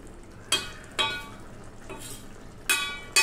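A spoon stirs ridge gourd curry in a pan, giving a few distinct scraping clinks spaced about half a second apart over a faint sizzle, close and fairly quiet.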